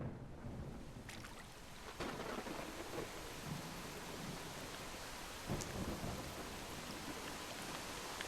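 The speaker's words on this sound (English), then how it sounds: "Is that just rain on the ceiling or on the roof?" Steady rain drums on a roof in the video game DrainSim, a dense continuous hiss with a few sharper knocks and swells, fairly loud and even throughout with no talk.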